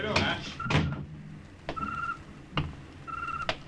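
A tavern door opens in an old-time radio drama, heard as sharp wooden thunks and creaks in a short series along with brief tonal squeaks, against faint crowd murmur.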